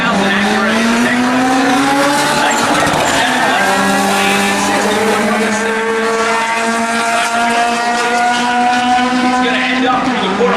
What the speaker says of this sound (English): Rudy Argueta from Charlotte, North Carolina, is right side in the Wicks lane in that 2000 Acura Integra